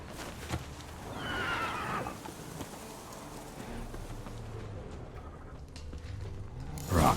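A horse in the Witcher 3 video game gives a clear whinny near the start, rising then trailing off, with soft ambient game sounds and occasional hoof thuds around it.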